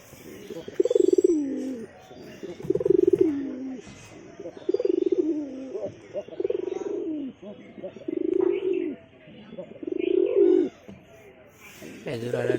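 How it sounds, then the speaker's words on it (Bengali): Domestic pigeons cooing in a home loft where a pair is nesting; soft, close, low coos repeat every second or two in a regular rhythm, with faint chirps in between. "শুরু করে আগে পায়রার গেটটা খুলে দিই।"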